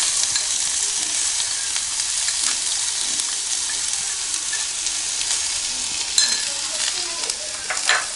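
Finely chopped onion frying in hot coconut oil for Kerala-style egg thoran, a loud, continuous bright sizzle with occasional stirring scrapes and pops, close up and with no talking over it.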